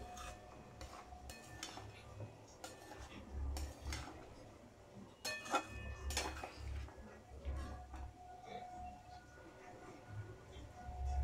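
Drumstick flower sabji being mixed in a pan, with scattered light scrapes and taps of a spoon against the pan over a quiet background.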